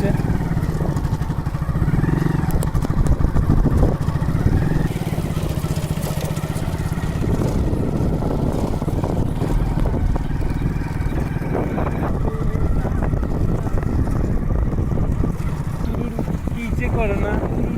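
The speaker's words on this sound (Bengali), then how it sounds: "ওই একটা নৌকা আসছে।" A boat passes along a mangrove creek in the Sundarbans, heard as a steady engine drone with wind buffeting the microphone, while a person talks over it.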